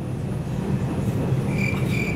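New York subway train rumbling steadily close by, a continuous low roar with faint squealing tones toward the end.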